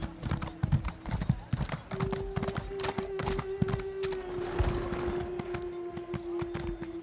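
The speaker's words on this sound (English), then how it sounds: "I don't mind this blue horse." Horse mount hooves in the video game Elder Scrolls Online, a steady run of clip-clopping hoofbeats close and clear, mixed with a soft game drone and faint ambient effects.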